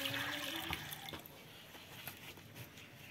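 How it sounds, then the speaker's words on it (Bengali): Fresh water is poured into a cooking pot at home, a soft splashing flow that is strongest at the start and then thins to quieter trickles, faint and close. "এই যে এখন আবার নতুন করে জল দিচ্ছি।"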